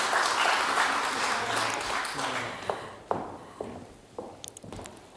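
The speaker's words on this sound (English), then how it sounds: "A short applause for this photo to become even better." Applause at an award ceremony for World Bee Day swells loudly at first, then thins out into scattered individual claps and footsteps as it fades away.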